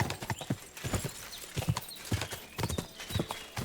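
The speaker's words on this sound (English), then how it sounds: "Ride like the wind. Come on, horse. Keep going." Horse hooves gallop in Kingdom Come Deliverance II, a close, steady clip-clop rhythm pounding on without pause, with a brief whinny-like edge mixed in.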